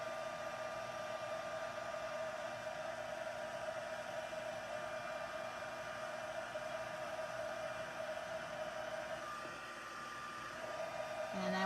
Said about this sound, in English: Now the trick about heat embossing, you have to make sure you move your heat tool.